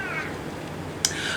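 Cat named Brew Kitty meowing near the mic, one drawn-out meow followed by a sharp second cry, over quiet room noise.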